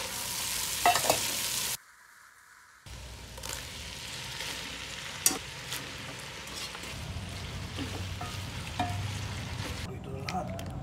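Garlic and tomato sauté in a pan for dinuguan, giving a steady low sizzle with stirring scrapes and brief clatters. A short gap of near silence falls early in the sizzle.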